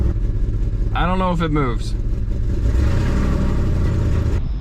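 A Jeep WJ with a 4.7-litre V8 runs loudly through an open exhaust, giving a steady close rumble. Partway through, someone speaks briefly over the engine noise.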